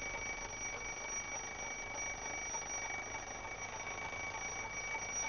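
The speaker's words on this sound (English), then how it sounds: "When the bell rings, we can see it as well as hear it." An alarm clock bell ringing continuously in a steady, even buzz at moderate, somewhat distant loudness, with no pauses and no talking.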